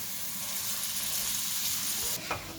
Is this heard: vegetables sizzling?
yes